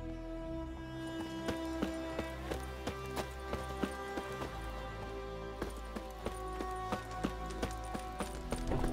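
A horse in The Witcher 3 video game clops along at a steady gallop, evenly spaced hoofbeats over a sustained musical drone, moderately close, with no talk.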